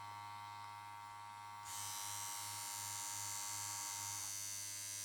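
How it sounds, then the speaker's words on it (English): Cordless Andis Master hair clipper switched on after a low electrical hum, then running as a steady, close buzzing drone with a faint pulsing beneath, fairly soft rather than harsh. "that's not a loud clipper"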